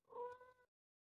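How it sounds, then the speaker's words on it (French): A cat gives a single faint, drawn-out meow that stops abruptly and is followed by silence. "on a entendu miauler une fois"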